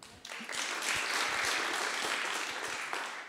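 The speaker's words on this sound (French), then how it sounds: "On peut applaudir aussi." Audience applause at a student project pitch session: dense, steady clapping from a room full of people, swelling quickly after a brief quiet start and holding evenly with no talk over it.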